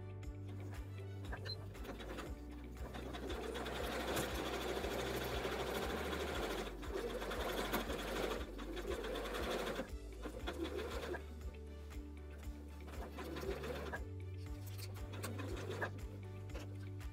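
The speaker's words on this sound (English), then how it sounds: "So let's go ahead and sew this up." A sewing machine stitches a quilted oven mitt with a steady mechanical whir that runs almost continuously, pausing briefly near the middle before resuming, close and fairly loud.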